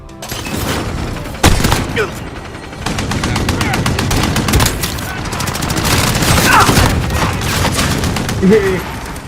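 Dense, sustained automatic gunfire from the video game Call of Duty rattles through most of the stretch, with bursts, single loud shots and booming hits layered together and staying loud throughout.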